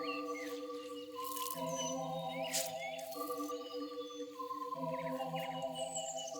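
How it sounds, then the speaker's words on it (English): Several birds chirp and tweet outdoors in the early morning, with short bright calls scattered over a steady tonal hum in the background, fairly faint and continuous. "You hear the birds chirping."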